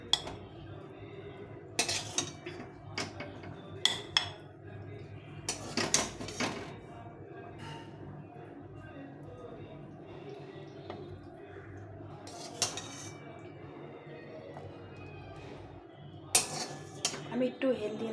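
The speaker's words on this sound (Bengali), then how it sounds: "আমি প্লেটে উঠে নিচ্ছি।" Chickpea chaat scooped from a pan onto a plate: scattered clinks and scrapes of a spoon against metal and crockery in short bursts, with quieter gaps of room noise between.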